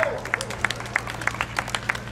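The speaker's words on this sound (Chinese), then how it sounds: "非常谢谢他们我们再鼓掌谢谢" Audience at a church gospel evangelistic meeting clapping together, a steady run of crisp, evenly spaced claps from a crowd filling the room at moderate volume.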